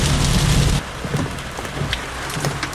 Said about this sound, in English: the heavy rain core is in front of me